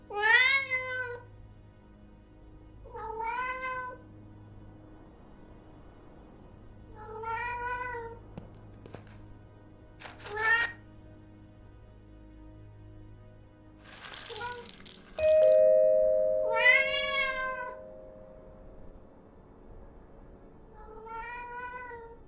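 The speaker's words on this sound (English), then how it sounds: "Meow." Repeated cat meows from a video game setting, about six separate calls spaced every few seconds, fairly clear against a low steady background hum, with a brief rattle and a tonal chime midway.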